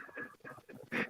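Short, wheezy, breathy vocal noises from a dog, a few quick rasping bursts close up, fairly quiet.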